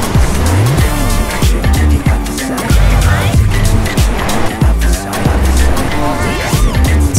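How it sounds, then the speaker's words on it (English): A 2022 Honda HR-V drives with tires squealing and skidding through turns, loud and close, with repeated rising and falling chirps over a steady engine rumble. "The car is handling very well."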